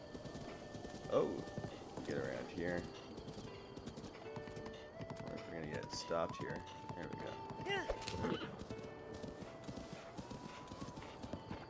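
Horse hooves clip-clop at a steady trotting rhythm while riding in the video game The Legend of Zelda: Breath of the Wild, with occasional whinnies and someone talking over the gameplay.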